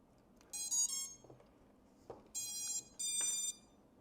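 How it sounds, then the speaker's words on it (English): Three bursts of high electronic beeping from a quadcopter drone's receiver, each lasting about half a second, with brief clicks between them against a quiet background. "So we can see that the receiver is beeping green in there."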